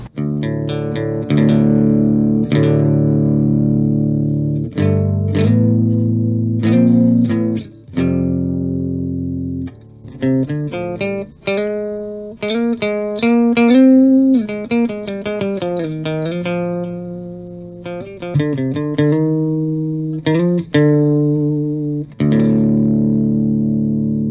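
Electric guitar through an EROK Pocket Rock headphone amp plays chords and melodic runs with a distorted, effected tone, notes ringing and cutting off in phrases with no talking.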